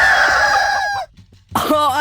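Chickens crowing and clucking in a video game, a loud close squawking burst, a brief pause, then another clucking cry.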